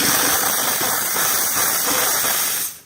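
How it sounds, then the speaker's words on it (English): Steam wand of a Saeco Barista espresso machine blasting a steady, loud hiss that runs evenly for almost three seconds before cutting off abruptly, with no voices over it. "I'm going to show you the steam function right now."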